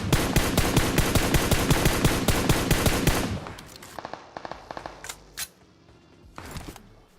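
Rapid automatic gunfire in PUBG Mobile bursts for about three seconds, then a few scattered single shots and clicks over quieter background.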